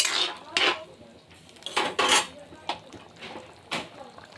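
Metal utensil scraping and clinking against a pressure cooker while chana dal and bamboo shoot gravy cooks, several sharp scrapes at uneven intervals, close and moderately loud.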